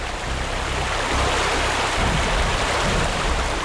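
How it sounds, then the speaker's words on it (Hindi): A waterfall in a forest, a steady loud rush of falling water filling the whole scene without a break. "सामने देखो, वाटरफॉल कितना सुंदर है ना"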